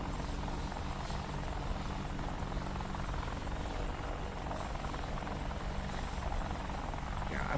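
A helicopter rotor thrums continuously in the DCS flight simulator game, a loud, steady, buzzing drone with a low throb underneath, unbroken throughout.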